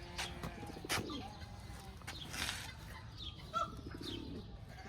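A few pigeons on a farm cooing softly, with faint chirps and occasional light rustles in the background, moderately distant and steady without talk.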